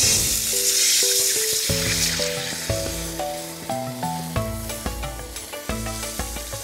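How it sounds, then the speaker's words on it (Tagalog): Stock sizzles and hisses steadily after being poured into a hot pan with minced pork and garlic, a continuous bright frying sound heard beneath a plucked melodic music track. "Lagyan lang natin ng kaunting stock."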